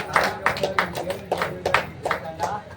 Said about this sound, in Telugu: చప్పట్లు కొట్టాలి ఒక్కసారి గట్టిగా